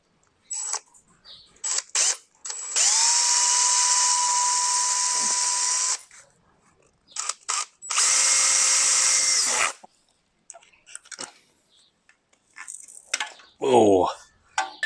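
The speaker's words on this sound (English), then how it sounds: "Very carefully put some screws into the old seal without trying to mar up the crank" A power drill drives screws into an old crankshaft seal on a Mitsubishi Legnum engine, whirring in two sustained runs of a few seconds each, with short ratchety bursts and handling noises between them.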